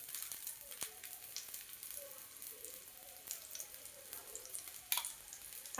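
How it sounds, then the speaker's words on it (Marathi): Soft, steady sizzle of banana appe roasting in ghee in an appe pan over medium heat, faint and continuous with occasional small crackles and light taps. "आणि यावरती पुन्हा तूप टाकते आणि छान खमंग होईपर्यंत हे भाजून घेते."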